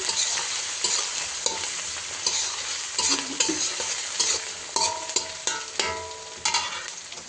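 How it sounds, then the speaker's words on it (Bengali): Chopped onion, garlic and green chili fry in hot oil, a steady bright sizzle broken by repeated sharp scrapes and clacks of stirring, close and fairly loud, with no talking. "তেলটা গরম হয়ে গেছে এখন পেঁয়াজ কুচি রসুন কুচি আর বেশি করে কাঁচা মরিচ কুচি রাখছি দিলাম"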